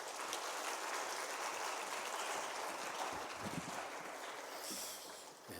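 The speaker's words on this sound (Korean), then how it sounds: "우리 박수로 환영하겠습니다" A church congregation at a Korean family worship service applauds to welcome the pastor, a dense, continuous wash of clapping from a large room that fades slightly toward the end.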